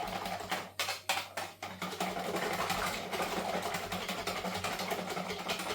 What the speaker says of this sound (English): give it a really good whisk